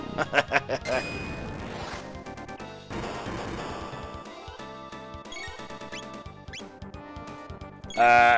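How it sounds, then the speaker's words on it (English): A short chiming notification from Chrono Trigger, the alert flagging an enemy counterattack, rising over dense retro game music with clattering battle effects and a bright bell-like burst near the end. "So that is a counterattack notification"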